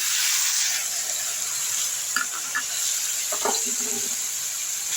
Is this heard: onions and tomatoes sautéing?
yes